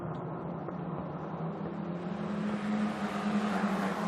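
Formula 4 race cars at the Sepang circuit drone past at a distance, a steady engine roar that builds slightly toward the end without a clear single pass.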